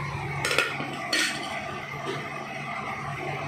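Cooking pots and lids handled in a home kitchen give two sharp metallic clinks about half a second apart, then a fainter clink, close by over a steady low hum.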